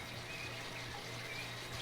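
Pool water recirculating through an ozonation system at a composter and swimming pool setup, a steady, continuous rushing and trickling wash with a low constant hum beneath, close and even throughout.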